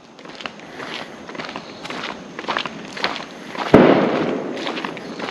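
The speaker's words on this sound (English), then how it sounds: "There's a gunshot." A single sharp gunshot cracks outdoors near a jungle road, standing out over steady background noise and scattered rustling footsteps, followed by a lingering burst of noise.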